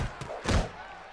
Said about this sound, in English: Sparino slams hard into his opponent.